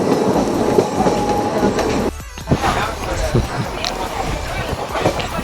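A train runs through Pamban railway station near Rameswaram with steady loud rumbling and rhythmic clatter of wheels on track, a brief dip midway, windy and continuous throughout.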